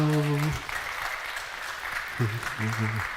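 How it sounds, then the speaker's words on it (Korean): Church congregation applauding during a worship service, a broad steady wash of clapping that carries through, with a voice speaking over it at the start and again near the end. "자, 우리 박수 좀 한번 쳐주시죠."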